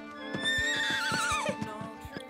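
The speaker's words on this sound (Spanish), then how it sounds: "se vuelve a oír a los caballos trotar" Horses whinny loudly with a long wavering neigh while hooves clip-clop at a steady trotting rhythm, close and clear with no talking.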